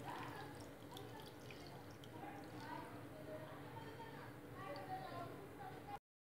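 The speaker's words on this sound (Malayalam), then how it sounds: "അത് നമുക്കൊന്ന് ഒഴിച്ചു കൊടുക്കാം" Tamarind water, squeezed out in a cup of water, is poured into Kerala breakfast sambar in a home kitchen, giving a faint, soft trickle and drip of liquid close by, with low background noise.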